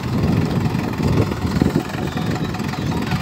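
A tractor engine runs steadily in first high gear during wheat sowing in a field, a loud, continuous low rumble close by with no breaks.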